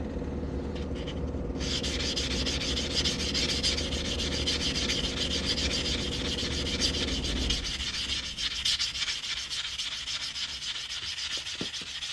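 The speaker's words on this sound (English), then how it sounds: "So we just sand this cut edge here." Sanding the freshly cut edge of a handmade coin ring, a steady abrasive rubbing that runs continuously for most of the stretch, then thins out toward the end with a few faint scrapes.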